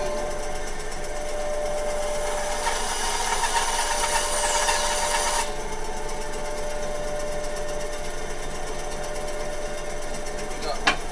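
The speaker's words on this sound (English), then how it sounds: "let the bandsaw do the work" A bandsaw cuts a pickup surround with a steady mechanical whir. The blade grows louder and brighter for a few seconds in the middle, then settles back to an even running hum.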